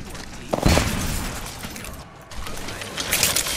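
Gunfire in the Apex Legends video game, close and loud: a sharp burst of shots and impacts near the start, then further crackling shots and a late bright volley, over busy game noise.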